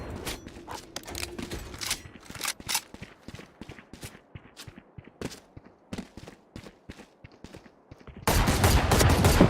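Heavy gunfire in a video game during an LLL versus OpTic match, rapid sharp bursts and single shots crackling close, ending in a sustained loud roar of fire.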